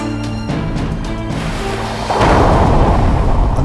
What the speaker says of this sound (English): A loud bang was heard.